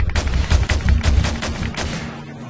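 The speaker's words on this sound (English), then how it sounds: "This is like the best Tommy gun ever. It shoots like 50 bullets a second." Tommy gun fire in the Call of Duty MW3 campaign: loud, rapid bursts of automatic shots in quick succession that fade into a rumbling tail.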